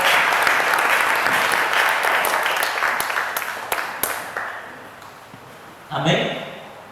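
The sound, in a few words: church congregation applauding loudly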